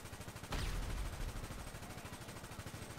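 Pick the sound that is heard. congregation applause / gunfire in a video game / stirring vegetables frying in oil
gunfire in a video game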